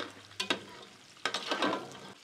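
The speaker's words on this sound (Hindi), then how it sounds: "बीफ को उठाना है, शामिल कर देना है और बीफ की भुनाई करनी है।" Beef and onions browning in a pot for pulao in a home Eid kitchen give a quiet, low sizzle, broken by two short clusters of stirring and scraping.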